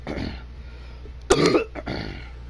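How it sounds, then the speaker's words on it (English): A single harsh cough bursts out close to the mic between short throat-clearing and breathy vocal sounds from one person. "Go ahead and get that cough out of my system."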